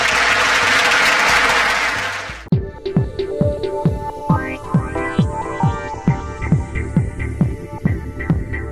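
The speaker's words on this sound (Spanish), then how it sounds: "Que sus aplausos sean de corazón sobre todo" A church congregation applauds its new parish priest, Father Alfonso, at Nuestra Señora del Refugio. The dense clapping lasts about two seconds, then stops abruptly and gives way to a rhythmic throbbing pulse.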